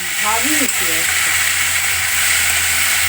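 Small chunopunti fish fry in a pan with a loud, steady sizzle and hiss throughout, while a voice speaks briefly near the start over the frying.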